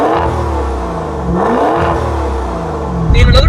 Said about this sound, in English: The exhaust note is just fantastic. You can tell that in just a few minutes of driving. You take a listen to a couple of revs.